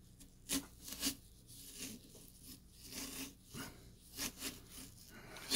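A large stainless steel carving saw from a Halloween pumpkin carving kit rasps through a pumpkin's flesh in a series of short, uneven scraping strokes, quiet and close, with no talking.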